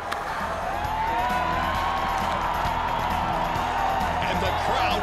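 A crowd cheers and claps steadily, a continuous wash of whoops and applause filling the space at a school district staff recognition.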